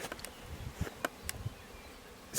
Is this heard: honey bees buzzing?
yes